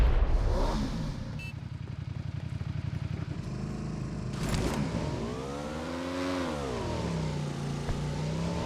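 A motorbike engine revs in a video game, a continuous buzzing drone whose pitch climbs and sweeps up and down as it accelerates, loud and close with no talk over it.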